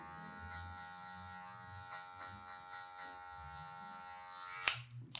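An electric hair clipper buzzes steadily at low volume while trimming afro hair for a mohawk, ending in a sharp click near the end.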